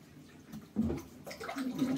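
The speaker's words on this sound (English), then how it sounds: "So what you do with the loom, cold water, have the tap running" Cold water running from a bathroom tap, a close splashing gush that swells and shifts as something is held under the stream, no speech.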